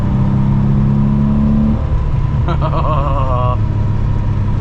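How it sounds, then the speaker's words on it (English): An air-cooled Porsche flat engine blips and revs on a downshift, a loud nearby rasp that drops from a steady hum into a short rising and falling rev, then settles back to idle. "So like if I downshift, very classic Porsche sound."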